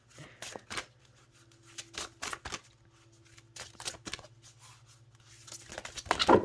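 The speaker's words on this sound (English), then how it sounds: "It might take me a little bit longer to shuffle because I'm really stretching it out to shuffle" Several quick bursts of tarot cards being shuffled, riffling and snapping close by, separated by short pauses, with a steady low hum underneath.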